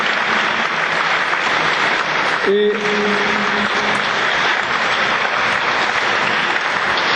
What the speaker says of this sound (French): j'aimerais qu'on puisse l'accueillir et l'applaudir aussi